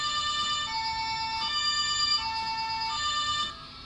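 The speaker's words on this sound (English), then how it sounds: "Blue light, sirens." A two-tone electronic police siren from the Autobahn Police Simulator 3 video game, alternating steadily in pitch, loud and continuous, with a synthetic game-like quality and no talking.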